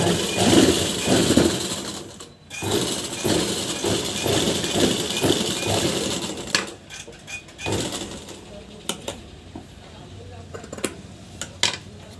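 Sewing machine stitching along a double-folded blouse edge, a steady mechanical whir with rapid needle clatter through most of the run, briefly pausing, then quieter intermittent stitching and clicks, close by, with a voice talking over parts of it.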